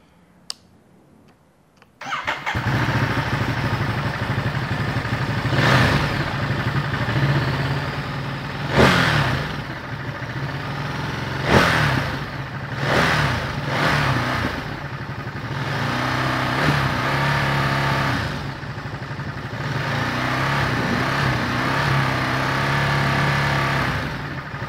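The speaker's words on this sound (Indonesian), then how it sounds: "Gimana sih suaranya Ducati 900cc yang baru L-twin ya" A new Ducati Monster 900cc L-twin motorcycle engine cranks and catches after a short quiet moment, then idles steadily up close with several sharp revs rising and falling, fairly loud and without speech.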